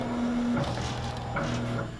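An embroidery machine traces a design outline for towel embroidery on needle number 2, giving a steady mechanical hum with shifting motor tones and small clicks as the hoop moves, close and alone.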